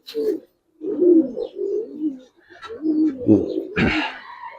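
Giribaz colouring hurricane pigeons coo in low, throaty bursts, several rolling calls in a row at close range, with short pauses between them.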